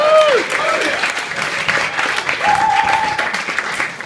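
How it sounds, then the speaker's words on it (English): Guests at a wedding reception break into loud, close applause during the best man's speech, with brief whoops and cheers rising over the clapping. "Round of applause, please, ladies and gentlemen."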